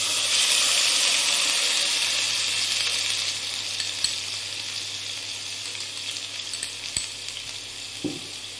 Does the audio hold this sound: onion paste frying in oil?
yes